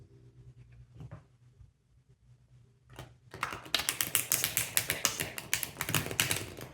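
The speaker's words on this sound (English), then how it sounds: "This tarot deck is a bit heavy to shuffle" After a few faint clicks, a rapid stream of crisp, close papery flutters begins, the sound of a heavy tarot card deck being shuffled.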